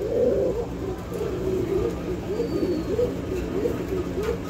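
Old-lineage Gola pigeons coo in soft, repeated low bubbling phrases close by, with faint background hum and little else.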